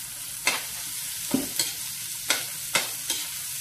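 Tomatoes and other ingredients stirred in a sizzling frying pan, a steady fry hiss punctuated by about six scraping strokes of the utensil, close up with no voices.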